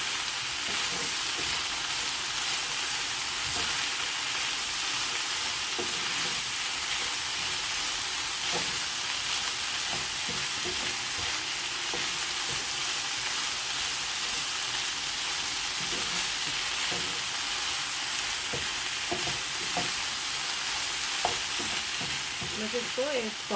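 Finely chopped onion and pizza sandwich filling fry in a pan with a steady, broad sizzle throughout, while a spoon scrapes and stirs in scattered clicks and light knocks, close and continuous with no talking.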